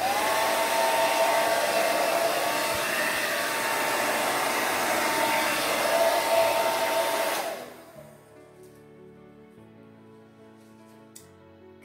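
A hair dryer blows over a poured acrylic paint surface in a Dutch pour, a loud, steady close-up roar that runs for about seven and a half seconds and then cuts off to near silence.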